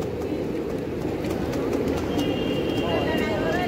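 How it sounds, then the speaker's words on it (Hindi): Pigeons coo while feeding at a peacock garden outdoors, soft low murmuring under a steady wash of ambient noise, with a faint chirp near the end. "ये अभी आ चुके हैं कबूतर खाने गाइस, ये देखो खा रहा है अभी।"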